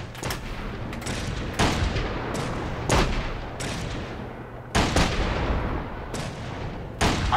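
Gunshots in The Saboteur video game ring out as several loud, sharp cracks spaced a second or two apart, each trailing off into echo over a steady background rumble.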